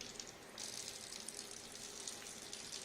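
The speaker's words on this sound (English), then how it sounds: "we are going to fill this cuvette by using water" Water sample pouring into a small cuvette, a steady faint trickling hiss that continues throughout without pause, no voices.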